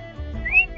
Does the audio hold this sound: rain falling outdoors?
no